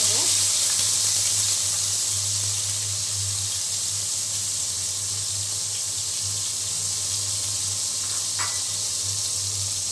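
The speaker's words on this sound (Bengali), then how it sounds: "বেগুন ভেজে তুলে নিয়ে তারপরে এই তেলের ভিতরে আমি চিংড়িগুলোও ভেজে নেব" Salted, turmeric-coated eggplant fries in hot oil with a continuous loud sizzle and crackle, holding steady throughout with a faint low hum beneath and one brief clink near the end.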